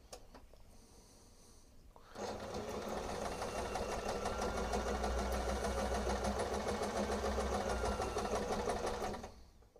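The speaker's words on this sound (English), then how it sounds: "we can now sew down the left hand side and do the first bead of our buttonhole" Sewing machine running steadily for about seven seconds while stitching down the left side of a buttonhole bead, a dense rapid needle chatter that starts abruptly after a quiet lead-in and stops cleanly.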